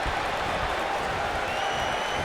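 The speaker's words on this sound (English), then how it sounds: "And the fans, you can see the clapping there" A wrestling arena crowd claps in steady, dense applause that stays loud and even across the moment, with a faint whine riding above the noise.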